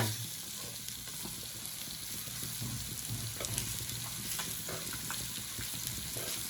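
Fish fries in a hot pan with a steady, dense sizzle and a few faint scraping ticks as it is turned, heard close and alone without any voices.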